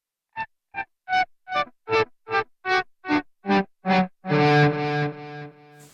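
Electric guitar played through a Jam Up Pro clean tone, a series of about ten soft volume-swelled notes fading in one after another with delay, ending on a sustained ringing chord that slowly decays.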